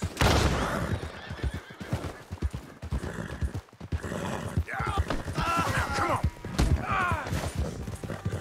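Horse whinnying in the Red Dead Redemption 2 video game, several rising and falling neighs with hoof clip-clops and gunfire amid loud game action, with someone talking over it.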